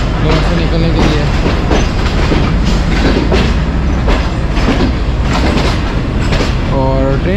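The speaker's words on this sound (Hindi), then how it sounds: "ट्रेन जो है आहिस्ता आहिस्ता अपनी स्पीड बढ़ा रही है" A Narowal passenger train pulling out of Lahore and slowly gathering speed, loud and close, with rhythmic clickety-clack of wheels over rail joints, a steady rumble, and a brief squeal near the end, while someone talks over it.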